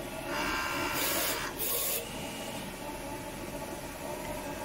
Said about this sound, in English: the printer starts to print